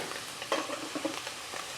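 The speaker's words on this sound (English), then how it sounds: "Oops, sizzle, sizzle." Soft crackling sizzle of beef and noodles in a pan, steady and close, with a few brief louder pops, no voices.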